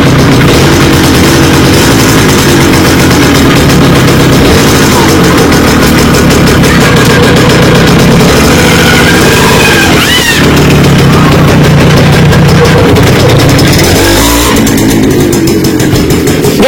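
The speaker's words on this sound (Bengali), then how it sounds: "মোটরসাইকেল চালু করতেছে" A motorcycle in a village yard is started and settles into a loud, steady idle that runs throughout, with a rough mechanical rumble and faint voices in the background.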